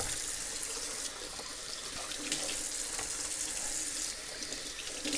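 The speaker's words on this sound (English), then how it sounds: "So I'm going to give it one more rinsing." Tap water runs steadily from a faucet, rinsing a lake trout in a sink, with a continuous, fairly quiet splashing hiss lasting the whole stretch and no talking.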